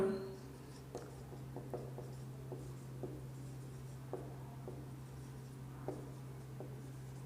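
Marker or chalk strokes on a classroom board, heard as faint, scattered scratches and taps in short groups over a steady low electrical hum.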